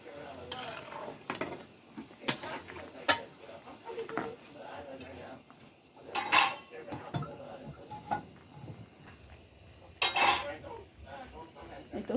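Hilsa fish pieces being placed into a simmering curry in a pot, giving scattered clinks and knocks of utensil against pan with soft splashy handling sounds and a couple of louder clatters amid low background noise.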